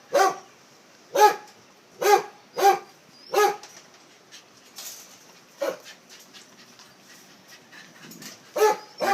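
Dogs bark in a six-kennel plywood and tin-roofed kennel, a run of loud, evenly spaced barks close by, then scattered fainter barks and yips before a couple more loud barks.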